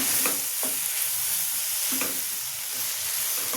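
Spiced masala for an achari cabbage, potato and pea curry sizzling in a pan after a spoonful of water is added, with steady hissing broken by a few distinct spoon-stirring scrapes, close up and without speech.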